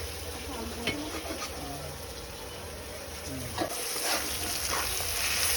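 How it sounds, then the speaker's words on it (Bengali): Rohu fish maw fries in oil in a wok, a constant sizzle broken by several scraping stirs of the spatula, up close, with faint voices in the background. "এখন মিক্সিং চলছে দেখো"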